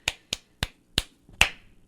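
Five soft, sharp claps ring out one by one with short gaps between them, making a quiet, deliberate golf clap with nothing else heard.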